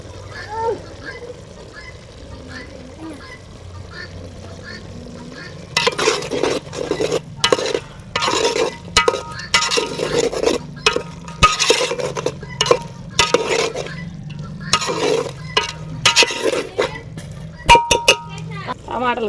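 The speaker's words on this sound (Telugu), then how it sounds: "ఇప్పుడు అల్లం వెల్లిపాయ ముద్ద వేసుకోవాలి." Ginger garlic paste is stirred in a pan while cooking gongura chicken. A spoon scrapes and clinks against the metal over a quiet sizzle, in irregular bursts, as someone talks nearby.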